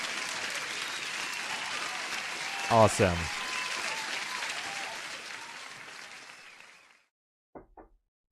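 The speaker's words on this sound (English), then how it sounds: "let me give you a huge applause here" A canned applause sound effect of crowd clapping plays steadily for about seven seconds, with a brief spoken word over it, then fades out before a couple of short knocks.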